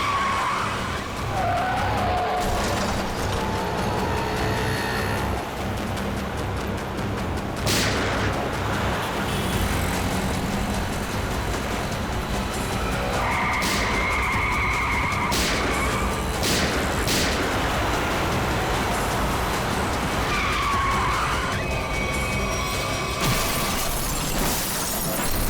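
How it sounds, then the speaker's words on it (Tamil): Busy road with heavy traffic, cars rushing past and tyres skidding, mixed with crashing impacts and a continuous dense roar; loud and close throughout with no clear speech. "நிறைய வண்டி போயிட்டு இருக்கு."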